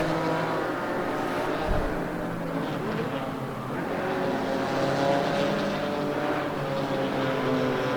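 Porsche and BMW race cars roaring around the Paul Ricard circuit, a steady, loud engine drone that holds for the whole stretch, with a brief low thump early on and no voices over it.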